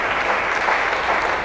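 Audience applause at a professional table tennis match, a steady wash of clapping from many hands, dense and even throughout the short moment.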